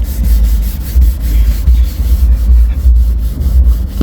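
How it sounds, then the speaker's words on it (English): Steady, loud scrubbing of a car interior seat with all-purpose cleaner, a continuous rough rubbing texture with rhythmic brush strokes and no talking. "we just go ahead, start scrubbing down the seat"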